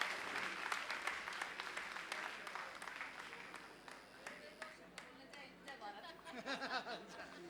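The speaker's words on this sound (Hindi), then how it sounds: "जोरदार तालियों से स्वागत कीजिए" Clapping from an audience of party workers welcomes a speaker onto the stage at a political gathering. The applause is sustained and moderately distant, fades over several seconds, and ends with scattered voices and chatter.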